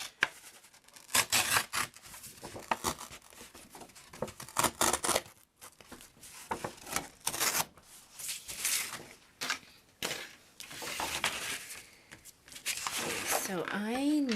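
A paper or card folder is cut in half with scissors, giving bursts of close snipping, rubbing and crinkling handling noises, while a person talks between the cuts.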